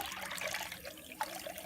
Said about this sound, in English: So I use a chip clip to help hold my strainer on, and then we'll just pour this through